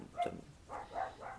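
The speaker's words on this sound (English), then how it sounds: "those are my dogs barking." Several dogs bark at home, a few short, muffled barks in quick bursts, faint and somewhat distant, with no speech over them.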